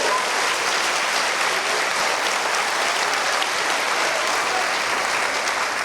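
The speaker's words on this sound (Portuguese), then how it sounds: "dê um aplauso ao Senhor Jesus" A church congregation applauds in a dense, sustained wash of clapping that holds evenly from start to finish, with no voices rising above it.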